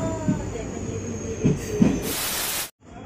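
A passenger train at Dhekiajuli station hisses and rumbles softly, with faint squeals and knocks, then a brief loud burst of hissing before it cuts off.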